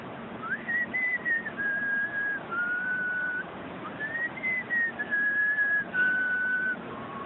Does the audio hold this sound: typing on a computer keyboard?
no